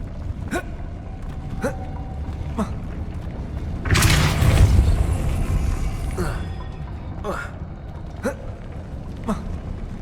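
A Depulso spell in Hogwarts Legacy lands as a loud, heavy whooshing boom that swells and fades over about two seconds, amid game ambience with regular soft thumping footsteps.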